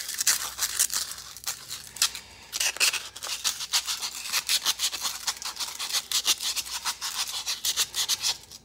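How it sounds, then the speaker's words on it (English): Sandpaper rubs rapidly back and forth on a brake line from a 7.3 Super Duty, giving close, scratchy, rhythmic strokes with no talk. "I have to take sandpaper and clean this up"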